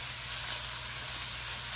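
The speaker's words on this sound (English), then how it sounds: "It's really cooking. It's not sticking, but it's okay." Sausage sizzling in a pan with vegetables and pepper, cooked without oil, giving a steady close hiss and crackle with no talk.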